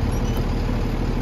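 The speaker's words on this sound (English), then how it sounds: "I'm gonna put my vehicle in drive and tap my accelerator and tug against the parking brake" A truck engine idles and revs briefly in drive during a Class B air brake tug test against the parking brake, a steady loud rumble heard up close.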